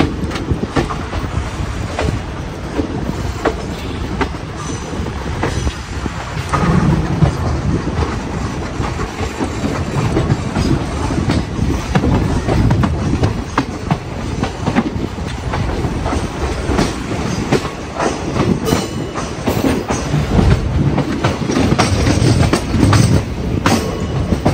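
A passenger train rolls through the yard near Bhusawal Junction, wheels clattering over rail joints and points in a dense, continuous rumble heard from on board, with rhythmic clickety-clack and faint squeals throughout.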